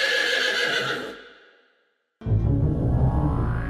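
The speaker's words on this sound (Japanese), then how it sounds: "なんと、ピノッキオとロメオの体は、ロバになっていました" A donkey brays in a Japanese radio drama of Pinocchio, a loud braying call that fades into silence, then a second loud burst starts abruptly.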